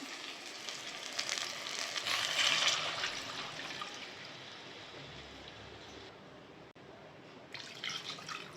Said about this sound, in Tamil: நல்லா மிக்ஸ் பண்ணிட்டோம் இந்த நண்டு கிரேவிக்கு தேவையான அளவு தண்ணி